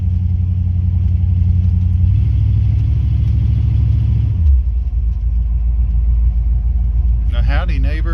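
A Cadillac engine drones steadily with a low exhaust rumble while driving with a cracked door, the pitch shifting midway, and a voice speaks briefly near the end.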